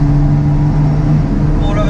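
A Lotus Exige Sport 380 engine drones loudly and deeply up close, its exhaust valve open giving a heavy, sustained rumble.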